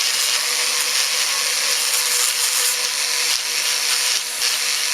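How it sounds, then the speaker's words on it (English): A Dremel rotary tool grinding a small part of a Weber carburetor from a Fiat 850, a continuous high-pitched whirring grind close by, steady and alone. "that's what the Dremel's for"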